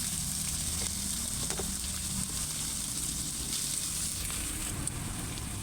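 Potatoes, browned onions and leafy greens frying together in a pan, making a soft, even sizzle with light crackle that holds steady throughout.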